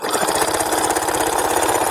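A sewing machine runs steadily down the seam of a homemade overnight bag, stitching a handle with a fast, even mechanical buzz and rapid needle pulses, loud and close with no pauses.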